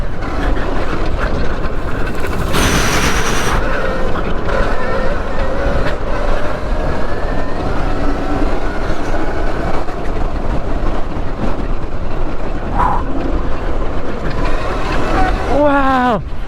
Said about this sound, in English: This is a full-size dirt bike for sure.